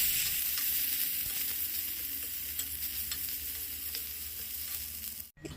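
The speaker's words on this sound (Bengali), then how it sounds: "পেঁয়াজটা একটু ভাজা ভাজা হয়ে গেলে এর মধ্যে দিয়ে দেবো রসুন বাটা আর কাঁচা লঙ্কা বাটা, দিয়ে ভালো করে নাড়াচাড়া করে নেব" Onion frying with garlic paste and green chili paste in a pan for lentil khichuri sizzles steadily while it is stirred, with light scraping throughout and a sharp clunk near the end.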